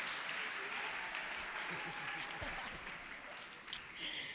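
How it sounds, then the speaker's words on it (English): An audience at a learner-led gender-based violence prevention dialogue claps steadily for a speaker handing back the microphone. The applause is fairly faint and continuous, with some talking mixed in toward the end. "Please clap hands for me as I give the mic back to Sesibusi."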